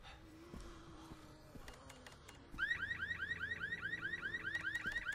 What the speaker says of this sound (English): Alright, let's lean up against this and set off an alarm.